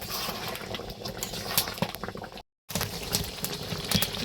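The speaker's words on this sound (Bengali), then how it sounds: "দেখো বন্ধুরা এটা হলো দেশি মুরগি কষা হচ্ছে।" Desi chicken curry with fried potatoes sizzles and bubbles in a pot over a wood fire in a Bengali village kitchen, a close, continuous crackling sizzle with a brief silent gap midway.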